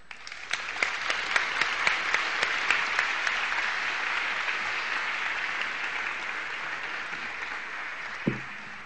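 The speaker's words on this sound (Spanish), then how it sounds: "pedirle un aplauso fuerte para él" A conference audience gives Nobel laureate economist Eric Maskin loud applause. It opens with sharp, distinct nearby claps, settles into a sustained dense ovation, and ends with a brief thump.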